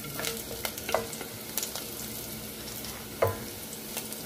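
Garlic sizzles in cooking oil in a saucepan, a soft continuous frying crackle broken by light clicks and scrapes of a stirring spoon.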